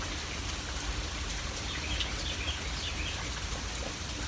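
Steady rain falls continuously on a dark, gusty day, a soft even hiss with faint bird calls in the background and no voices.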